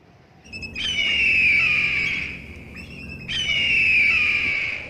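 Two long, shrill whistling calls of kites, each sliding slightly downward, separated by a short pause, loud and clear overhead.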